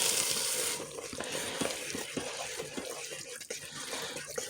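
Hot water running from a kitchen tap while cooking a taco salad, a steady hiss that stops after under a second, followed by quieter clinks and stirring.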